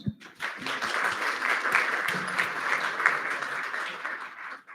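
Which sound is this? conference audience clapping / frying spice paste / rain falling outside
conference audience clapping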